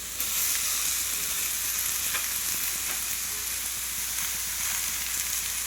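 Ridge gourd pieces fry in oil in a pan with a steady, dense sizzle that holds at an even level throughout, with a few faint clicks of stirring underneath.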